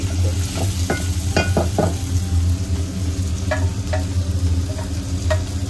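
Mixed vegetables sauté in a hot pan with a steady, dense sizzle, and a few clinks and scrapes of a spatula stirring them come through up close.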